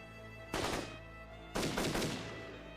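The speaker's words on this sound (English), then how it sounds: "The sound of gunfire told of more passengers being cut down." Two heavy gunshot-like bangs in the video game 428: Shibuya Scramble, about a second apart, each with a long reverberant tail over a steady electronic hum.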